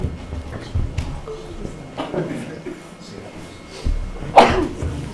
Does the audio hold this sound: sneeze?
yes